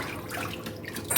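Water sloshes and swirls in a tub as dye fixative is stirred in, a steady close liquid wash with small splashy bursts and no talking.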